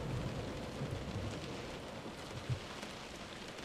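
Steady rain pours in the video game Close to the Sun, a dense continuous hiss with low rumbles of thunder underneath, fairly soft and without talk.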